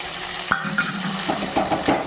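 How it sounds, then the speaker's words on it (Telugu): Chana dal, mustard seeds, cumin and curry leaves fry in a pan with a soft sizzle, punctuated by a few light spoon scrapes and clinks, close and fairly quiet. "మంచిగా ఫ్రై చేసుకోవాలి."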